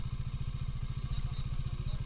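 A Bajaj Dominar motorcycle rides slowly over loose gravel on a rocky track toward a beach in the Eastern Ghats, its engine a low, quiet, steady thrum with faint clatter above.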